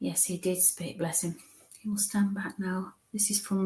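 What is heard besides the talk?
None of the usual background noises is heard.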